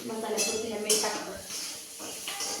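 Leftover rationed rice, broken up and tossed with spices and salt, gets stirred in a pan on a lowered gas flame: soft scraping and metallic clinks of a utensil, a few sharper hissing bursts, with a voice talking alongside.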